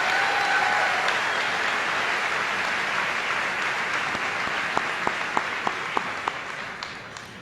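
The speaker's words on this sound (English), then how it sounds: "let's give a big round of applause for our students who have earned the very impressive honor" Applause fills a high school graduation hall, a broad sustained wash of clapping that slowly thins, leaving a few distinct individual claps toward the end.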